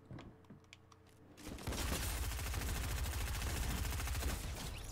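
Gunfire in Fortnite, beginning with a few faint scattered clicks and then breaking into a loud, rapid, sustained burst of repeated shots that keeps going to the end, with nobody talking.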